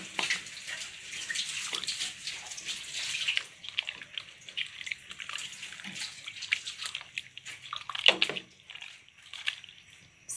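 A pot of Thai soup with pork belly bubbling as it boils, a steady watery hiss and gurgle with occasional louder splashes, fairly close.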